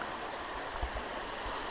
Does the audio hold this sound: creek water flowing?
yes